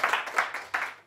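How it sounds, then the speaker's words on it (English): Audience applause for event organizers, a brief burst of hand clapping that swells and then trails off within about a second. "we need to do a big, big round of applause for all the people who organized this"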